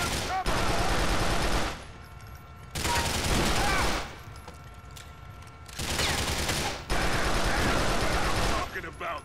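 Heavy automatic gunfire rattles in loud bursts during a GTA IV: The Lost and Damned firefight, three long volleys separated by short lulls.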